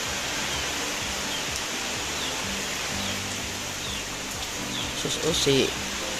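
Heavy rain falls on a farm in the countryside, a steady broadband hiss throughout, with faint speech underneath and a brief louder voice near the end.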